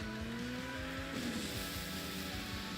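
A Mercedes car in a video game rolling through water on a beach, steady engine hum with a rising whine and a rapid rhythmic splashing churn, evenly loud throughout.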